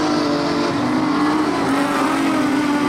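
Modified sedans racing in a heat at Kingaroy Speedway, a loud, steady engine roar from several cars holding at high revs throughout with no talk over it.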